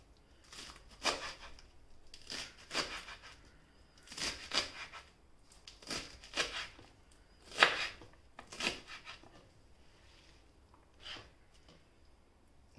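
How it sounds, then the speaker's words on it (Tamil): Washed spinach is chopped on a board for kootu, with a steady series of soft, crisp knife cuts in uneven rhythm, close and fairly quiet, and no talking. "அது கூட்டுக்கு நறுக்கிக்கிட்டு இருக்கேன்."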